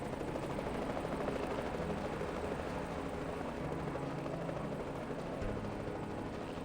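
A helicopter in the video game Reverse: 1999 descends with a steady, dense rotor and engine drone that holds loud and continuous throughout, with no speech over it.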